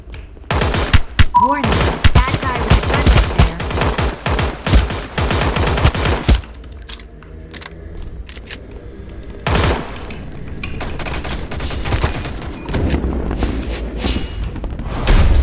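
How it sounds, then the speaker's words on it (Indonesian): Rapid bursts of automatic gunfire in the Omega Legends battle-royale mobile game, loud and dense with short pauses, quieter stretches of scattered distant shots, and a voice speaking intermittently between the volleys. "Gue merasa ada yang nembak gue lagi."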